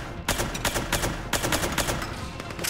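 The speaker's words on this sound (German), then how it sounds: "Ich möchte bitte mit der Suppressor schießen" The Suppressor weapon fires in Mass Effect 3, a rapid run of loud, punchy shots in a fast, even rhythm with a short pause partway through the burst.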